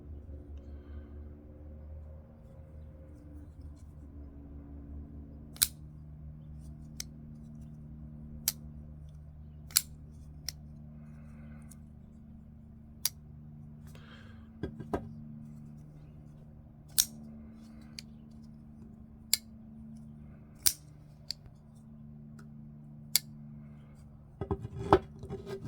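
Sharp metallic clicks at irregular intervals, a dozen or so crisp snaps of folding knife blades flipping open on tri-way pivots, over a low car engine rumble in the background.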